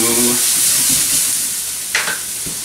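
Vegetables sauté in a hot pan, sizzling with a steady close hiss, a few stirring scrapes and a sharp clatter near the end.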